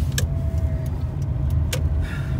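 A Lada Granta FL on Nokian Hakkapeliitta 8 winter tyres accelerates along a wintry road, with a steady close rumble of engine and road noise throughout and a few faint, brief high clicks over it.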